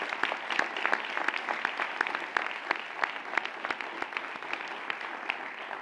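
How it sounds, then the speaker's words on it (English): An audience at a county public schools board meeting claps steadily and densely from start to finish, a moderately loud, even round of applause with no voices over it. "Let's give him a round of applause."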